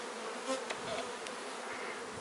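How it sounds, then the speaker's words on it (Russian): Honey bees buzz inside a strong colony's hive body, a soft, continuous hum with a few brief louder passes of individual bees close by, no voices. "И пчелы работают и здесь в корпусе"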